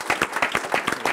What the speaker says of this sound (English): Let's give Allison a round of applause